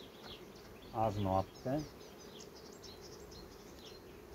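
Honeybees hum at an open hive, a faint, steady buzz that continues in the background while someone speaks briefly nearby.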